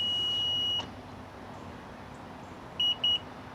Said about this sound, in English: it beeps like that